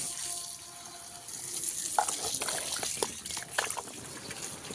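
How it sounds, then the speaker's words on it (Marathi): Potatoes drop into a pot of water for boiling on a traditional wood-fired stove, a few splashy plops and watery sloshes close by against a steady hiss of background noise. "मी पातेल्यात पाणी घेतले आणि त्याच्यामध्ये मी हे बटाटे टाकून घेणार आहे."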